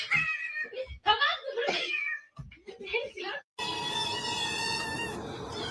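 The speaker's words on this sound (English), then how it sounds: "I love the kitty cats." Cats meow and caterwaul in rapid, near, fairly loud bursts, then a sustained, tonal yowl with a noisy backdrop closes the sequence.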